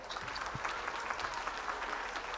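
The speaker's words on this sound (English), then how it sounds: "Give them all a round of applause." An audience claps at the close of a public policy legislative breakfast session, a dense, even patter of applause filling the room for a couple of seconds with no talk over it.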